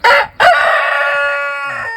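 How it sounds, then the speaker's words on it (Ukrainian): A black Jersey Giant rooster crows loudly nearby, a short opening note followed by a long drawn-out call that fades slightly at the end. "Шість чорних півнів. Один півень"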